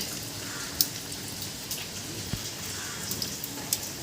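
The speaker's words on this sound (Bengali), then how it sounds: "দেখো বাইরে কিন্তু বৃষ্টি পড়েই যাচ্ছে পড়েই যাচ্ছে টিপ টিপ করে" Light rain falling steadily outside, a soft continuous patter with occasional louder drips landing nearby.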